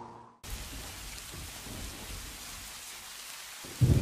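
Cartoon storm with rolling thunder and heavy rain, a steady wash of rainfall after a short quiet start, closing with a louder close thunder crack, no voices.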